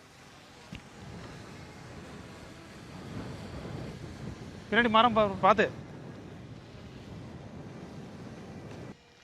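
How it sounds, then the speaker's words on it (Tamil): Steady outdoor wind buffets the microphone throughout a rainy-season RC boat test by open water, a continuous rushing roar while someone speaks briefly in the middle. "காற்று அங்கேருந்து இங்கே அடிக்குது."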